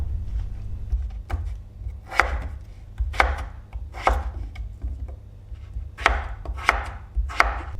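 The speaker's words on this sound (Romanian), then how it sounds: "trei cartofi tăiați în cubulețe mai mari" A knife cuts potatoes into large cubes on a board, landing about a dozen crisp chopping strokes in uneven bursts, close and clear with no talking.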